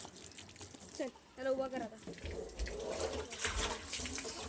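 Water pours into a drum for washing, a steady splashing rush that builds over the second half, with voices talking over it.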